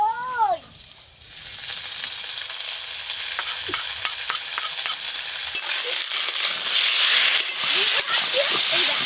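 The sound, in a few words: stirring fried potatoes with poppy seed paste in pan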